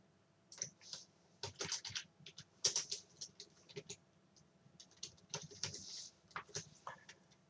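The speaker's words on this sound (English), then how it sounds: "I just type all the things first" Rapid, uneven clatter of keys on a computer keyboard in bursts and pauses, close and fairly quiet, with no one talking.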